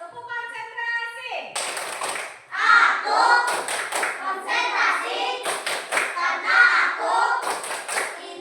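Schoolchildren in an elementary classroom perform the 'tepuk konsentrasi' clapping chant; a teacher's voice comes first, then loud rhythmic claps in grouped bursts with children chanting along.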